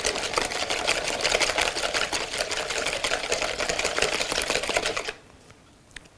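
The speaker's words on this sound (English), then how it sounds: "So I'll just whisk the eggs." A whisk beats eggs in a bowl for a Persian kotlet, producing fast, steady, close rattling strokes that stop abruptly after about five seconds, leaving a quiet room.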